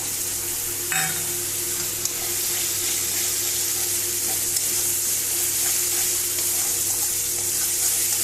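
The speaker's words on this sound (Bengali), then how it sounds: "এবার এর মধ্যে আমি গুঁড়ো মশলাগুলো সব দিয়ে দেব।" Ground spices sizzling in hot oil for a bhetki fish curry: a steady, even hiss that holds close and constant throughout, with a faint clink near the start.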